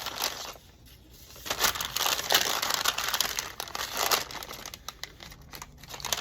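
Paper crinkles and rustles as a paper junk journal desk book is cut open, soft, close handling noise that swells and fades unevenly.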